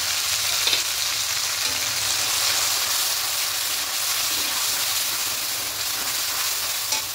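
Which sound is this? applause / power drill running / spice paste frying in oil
spice paste frying in oil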